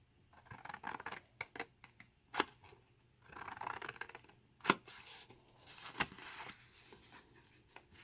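Scissors cut paper for a folded snack tray, trimming off a pencil line; several short, crisp snipping strokes and paper rustles come close up in quick bursts, with no talking.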